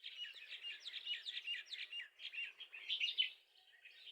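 Many small birds chirp and tweet in a dense, continuous chorus from trees close by, a busy high twittering that carries on for several seconds with no talking.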